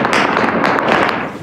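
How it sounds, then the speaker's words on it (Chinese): Gunfire from street fighting in a city in Sudan, heard as a loud, dense crackle of overlapping sharp reports that continues without pause for the whole moment, with no voices. "城市烟硝四起，枪炮声不断"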